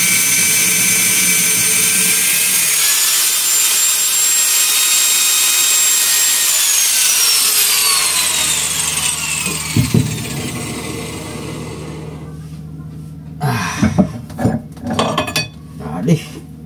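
A power grinder cuts metal with a loud, high, sustained whine that slowly falls in pitch as it winds down, followed by scattered clanks and knocks; a voice is faintly present.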